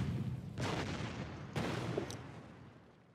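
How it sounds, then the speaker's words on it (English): A 50 cm autocannon firing in the card game KARDS: two sharp blasts about a second apart, each with a decaying rumble, plus a smaller crack after the second, fairly quiet overall. "That 50 centimeter autocannon is doing a lot of work."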